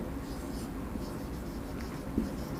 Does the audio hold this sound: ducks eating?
no